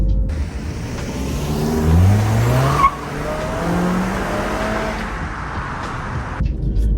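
A Toyota Camry SE accelerates hard from an intersection, its engine note rising steeply in pitch through the gears, loud and close with a brief shift break mid-pull and tire noise.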